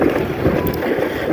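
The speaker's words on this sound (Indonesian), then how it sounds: "Ini kenceng banget anginnya." Strong wind roars steadily and loudly against the microphone at salt evaporation ponds, with a constant rushing buffet and no voices.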